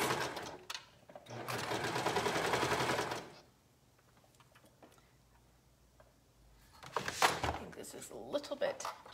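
A sewing machine stitching the shoulder seams of a short dress runs in a fast, steady whir for a few seconds, stops, then starts again in shorter bursts near the end, with quiet handling clicks between.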